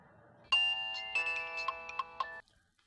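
A phone ringtone plays for an outgoing call when nobody picks up: a bright electronic melody of sustained tones with several sharp accented notes, loud and close for about two seconds before stopping.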